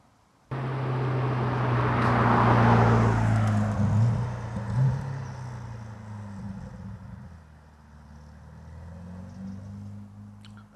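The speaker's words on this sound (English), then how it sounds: "That was a nice car." A car passes close by on a road near St Mary the Virgin Church in Fryerning, Essex, rising quickly to a loud rushing whoosh with engine hum, then fading gradually into the distance.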